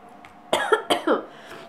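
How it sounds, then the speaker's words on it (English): One person coughs three times in quick succession, close and fairly loud, with a quiet room around them and no talking. "I have had this cough"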